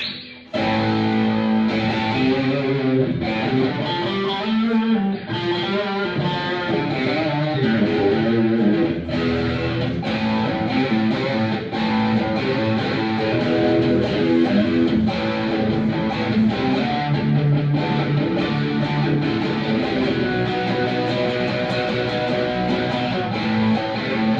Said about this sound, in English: Now let's hear some of the distorted tones. I'm going to start off in the bridge.